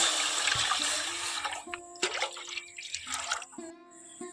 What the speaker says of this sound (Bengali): এখন আমি এখানে জল দিয়ে দিচ্ছি